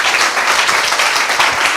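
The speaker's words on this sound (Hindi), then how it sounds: "आइए यीशु के लिए जोरदार ताली देंगे।" A congregation at a church sermon claps loudly and steadily, a dense wash of applause lasting under two seconds with no speech over it.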